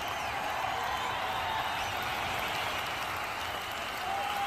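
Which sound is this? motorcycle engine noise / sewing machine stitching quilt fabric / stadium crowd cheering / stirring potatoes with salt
stadium crowd cheering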